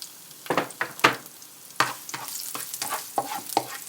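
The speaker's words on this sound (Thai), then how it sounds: "ผัดพอกระเทียมหอมๆนะคะ" Garlic frying in hot oil in a pan, with a low hiss under repeated sharp scraping strokes of a spatula, close by, irregular.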